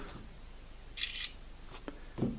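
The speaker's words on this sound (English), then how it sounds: "You can hear the shutter go there quietly" A faint electronic click-and-chirp of a Campark 4K action camera shutter taking a still, quiet and brief, followed by a few soft handling taps.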